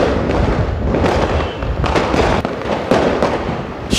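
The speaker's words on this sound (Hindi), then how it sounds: "पूरे शहर में, रुड़की नगर में, शिक्षा नगरी में पटाखों की आवाज़ लगातार आपको सुनने को मिलेगी।" Diwali firecrackers burst continuously in Roorkee, India, with rapid overlapping cracks and pops and occasional louder bangs, a dense crackling barrage without pause.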